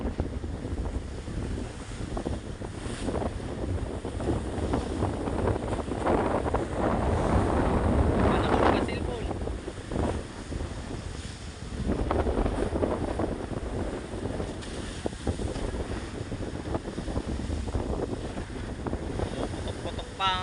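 Loud wind buffets the microphone over steady surf and rolling ocean waves around a small fishing boat far out on the Pacific in 8 to 10 foot swells, with gusts swelling and easing across the scene and no talking.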